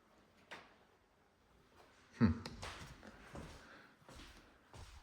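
A door in an abandoned 1970s house is pushed shut with one solid thud in the middle, surrounded by faint shuffling footsteps and creaks in a quiet, empty room.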